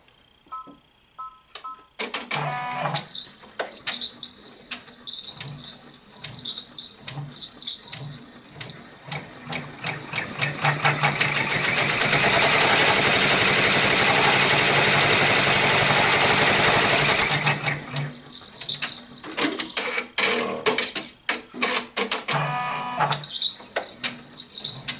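A Babylock 10-needle embroidery machine stitches out a design on fabric, a rapid rhythmic mechanical clatter that swells to a dense steady roar midway and then settles back to lighter ticking stitches, close up with no talking.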